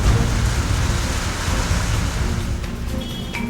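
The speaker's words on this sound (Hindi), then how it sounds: "कसौली, चैल में तेज बारिश हो रही है" Heavy rain falls in Himachal Pradesh around Solan, Kasauli and Chail, a steady, dense, loud hiss that continues unbroken, with no talking.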